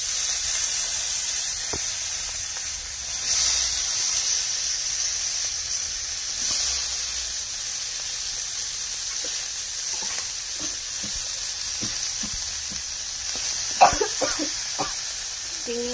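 Prawns frying in oil in a home kitchen wok, giving a steady soft sizzle and hiss throughout, with light clinks of stirring and a brief louder crackle near the end.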